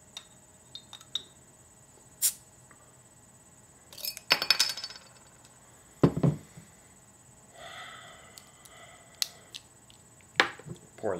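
A Wild Hop IPA bottle is opened with an Italian stiletto opener, giving scattered sharp metallic clicks and clinks, a louder cap-popping snap near the middle, and a brief fizzy hiss, close and otherwise quiet.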